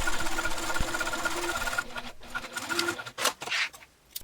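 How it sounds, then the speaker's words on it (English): A sewing machine stitches a diaper pouch closed in a close, rapid whirring run that stops after about two seconds, followed by a few soft handling clicks and rustles. "I'm just going to take it to the sewing machine and stitch right there"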